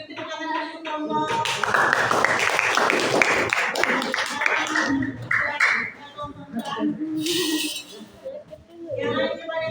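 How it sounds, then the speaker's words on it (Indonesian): Classroom of students clapping for a group of classmates, a lively burst of many hands that gradually thins out, with voices talking over and around it. "tepuk tangan untuk kelompok"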